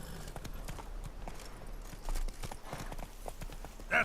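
Geralt's horse Roach trotting in The Witcher 3: Blood and Wine, a steady stream of hoof clip-clops over a low outdoor ambience, with a couple of brief louder thumps and no talking.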